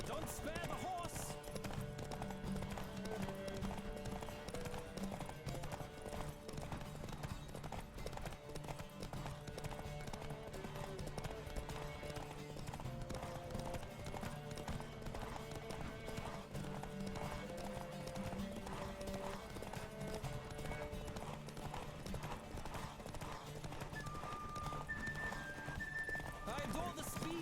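Horses gallop in a race in The Witcher 3 on Death March difficulty, a continuous rapid clip-clop of hooves with occasional neighs running the whole way under game music and spoken dialogue.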